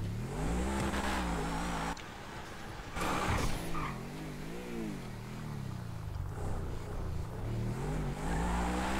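Car engine accelerating in GTA 5 on a PC parkour ramp race with an Adder supercar, revs rising and falling in repeated sweeps, loud and close.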